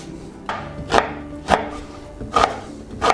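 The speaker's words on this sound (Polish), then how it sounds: "Obiorę i pokroję większą kostkę, jedną cebulę." A knife chops a peeled onion into large cubes on a board, with five distinct sharp thuds spaced unevenly over a few seconds, close and clear.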